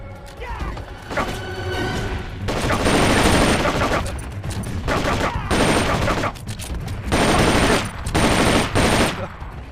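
Metal Gear Solid: Peace Walker gunfire rattles in repeated bursts of rapid automatic shots, loud and close, separated by short pauses with faint mechanical clanks.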